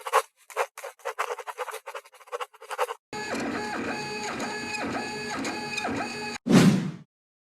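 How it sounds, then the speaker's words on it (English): A Creality Ender 3 FDM 3D printer runs alone, its stepper motors giving off stuttering, pulsing whines that shift into a steady tonal stepping pattern, ending in a brief louder burst. "The Creality Ender 3 is a great entry-level FDM 3D printer."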